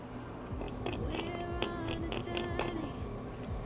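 Several crisp crunching bites into something hard and crunchy, close up, spaced irregularly over a steady low background.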